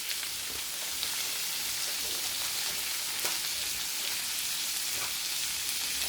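Mushrooms sautéing in a pan over moderate heat, a steady close crackling sizzle with small pops throughout, no talking.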